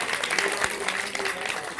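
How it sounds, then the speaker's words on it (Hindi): Audience applause at a Mother's Day celebration at the Khole ke Hanuman Baba temple, a dense steady wash of clapping filling the short moment without pause. "जोरदार तालियां।"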